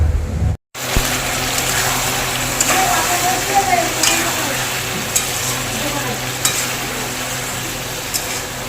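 Meat sizzles and fries steadily in a pan at home for a birthday party meal, a loud continuous hiss close to the microphone with faint stirring clicks and a brief dropout near the start.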